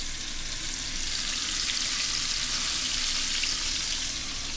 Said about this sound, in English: And you're just slow frying these.